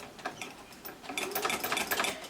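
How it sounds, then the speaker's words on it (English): Sewing machine top stitching along a cloth face mask, a quick steady run of needle clatter that begins softly and then rises to a busier, louder burst before easing off. "So I'm going to sew a line, I'm going to top stitch the top, and then I'm going to come back and top stitch the bottom"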